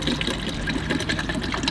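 Water pours steadily in a continuous rushing stream, close and fairly loud, with no voices.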